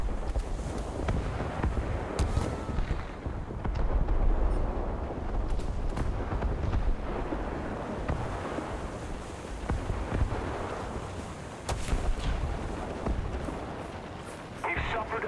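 Anti-aircraft fire bursting around a torpedo plane during an attack run in a video game, a dense, continuous crackle of flak explosions and rumble with someone talking over it.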